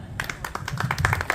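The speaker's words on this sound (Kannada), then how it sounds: "ಎಲ್ಲರ ಕಡೆಯಿಂದ ಒಂದು ಜೋರಾದ ಚಪ್ಪಾಳೆ" An audience at a traditional rangoli competition claps in a short burst of quick, uneven applause, fairly close and moderately loud.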